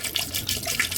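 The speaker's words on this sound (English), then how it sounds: "I get the antifreeze and I pour it down the drain" Non-toxic antifreeze is poured down a camper drain during winterizing, making a brief, close gurgling splash of liquid.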